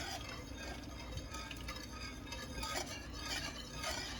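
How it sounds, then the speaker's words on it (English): Heavy cream being stirred into homemade Alfredo sauce in a pan over low heat, a steady soft scraping and gentle sizzle that carries on continuously without talk. "Make sure this is on low, all right? Because we're just going to stir it in."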